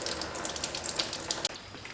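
Ice-cold water drains and trickles from a plugged drain hole on a budget-build Chevy S10 being lowered, a faint steady splashing and dribbling with small drips, no voices.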